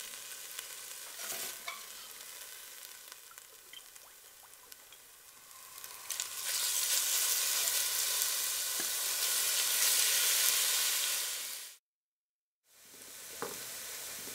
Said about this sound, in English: Transfer the first batch of lamb to a plate and continue searing the rest of the meat.